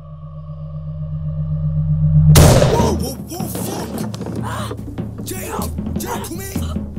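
A single loud gunshot cracks out as a bullet strikes a car wing mirror, a sharp impact over a low steady hum, followed by ongoing clattering noise with voices mixed in.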